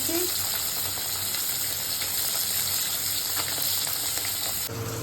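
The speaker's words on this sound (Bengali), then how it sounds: "গরম হয়ে গেছে মাছটাকে ভেজে নেবে" Fish sizzles steadily in a hot pan in a home kitchen, a continuous dense frying hiss with faint clatter, ending with a brief shift near the close; no speech.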